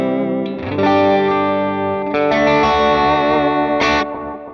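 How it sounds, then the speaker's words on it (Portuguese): Electric guitar played through a Valeton GP-5 with a 350 ms analog delay, heavily distorted sustained chords with effects-laden repeats and a bright squealing accent near the end, loud and continuous with no voices. "vamos colocar um delay analógico com 350 milissegundos"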